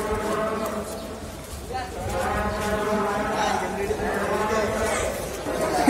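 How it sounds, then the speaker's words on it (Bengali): At the Shahjahanpur cattle market, muddy and crowded, a busy wash of crowd chatter fills the space with scattered lowing cattle mixed in and a voice talking close over the din throughout. "গাইস আমরা চলে আসছি শাহজাহানপুর গরুহাটে।"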